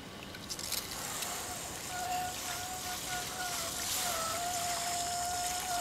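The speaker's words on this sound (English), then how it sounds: "Let me get some clean water on that real quick." Clean water poured over a mined clay and iron sample at an old gold mine, a close, steady rushing trickle and splash that holds for several seconds, with a faint whistling tone on top.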